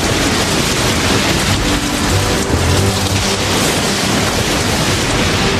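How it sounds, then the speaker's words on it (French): Heavy rain from a thunderstorm at the construction site of the Petronas Towers pours down as a loud, dense, unbroken roar, with a deeper rumble swelling briefly midway. "Mais l'orage est revenu."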